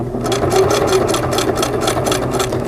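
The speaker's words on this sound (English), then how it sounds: "Continue sewing, being very careful to stitch in the ditch." A Singer sewing machine stitches in the ditch along a quilt seam, a steady rapid mechanical chatter of needle strokes running continuously and close up with no talk.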